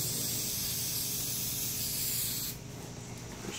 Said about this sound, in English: Get that, then I'll just get up here and spray this.